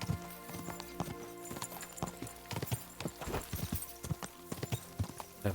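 Horse hooves clip-clopping steadily while riding in the video game Kingdom Come Deliverance 2, an even trotting rhythm of crisp close hoof strikes over a faint musical bed.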